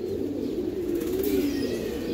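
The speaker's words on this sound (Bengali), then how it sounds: "এই সাপচিলা কবুতর," A female sapchila racing pigeon coos in a short, low, wavering burble, close and moderately loud over a soft steady background.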